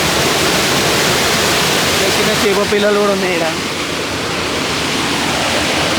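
Pond water spills over its edge as a mini waterfall at Thurkapally, a loud, steady rushing roar that fills the whole span while someone talks over it.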